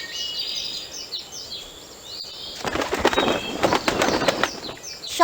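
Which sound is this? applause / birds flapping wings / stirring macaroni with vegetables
birds flapping wings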